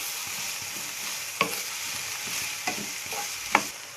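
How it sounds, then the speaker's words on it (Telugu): Cut vegetables for a curry frying in a pan, with a steady close sizzle throughout and a few sharp clinks as a spatula stirs them. "మంచిగా వెజిటేబుల్స్ ఫ్రై చేసుకోవాలి."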